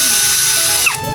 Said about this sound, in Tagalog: Tanggalan natin ang screw.